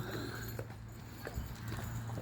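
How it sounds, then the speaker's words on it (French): Horses walk nearby, their hooves making irregular clip-clop knocks over a low steady background hum, with no talking during the steps. "Chevaux."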